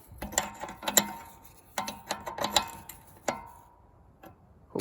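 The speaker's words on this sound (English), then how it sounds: "as the bolt starts loosening up, you are going to start to need two hands here." Ratchet wrench clicks and metallic clanks while loosening a bolt on a Husqvarna, in several short bursts of close, moderately loud clicking separated by brief pauses, with no talking.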